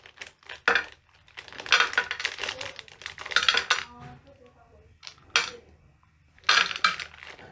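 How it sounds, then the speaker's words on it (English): Chocolate chunks being mixed into muffin batter in a bowl, with irregular scraping and clinking of a spoon against the bowl, close and intermittent with short pauses between bursts. "Mix the chocolate chunks"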